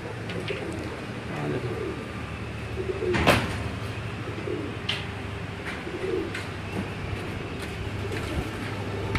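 Nil Dumbi breed pigeons cooing on a rooftop loft in Faisalabad, a steady low murmuring chorus from several birds with a brief louder burst near the middle.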